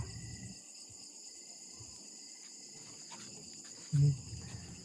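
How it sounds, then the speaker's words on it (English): Crickets chirp outdoors at night in a steady, continuous high trill that runs through the whole stretch, with a brief low thump near the end. "it's nice to come out here and listen to the crickets and some nature"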